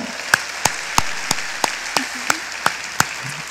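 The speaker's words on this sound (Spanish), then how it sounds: "Denle el aplauso al Señor, alábelo" A church congregation claps in slow, evenly spaced single claps, about ten sharp strikes ringing in a reverberant hall with no voices over them.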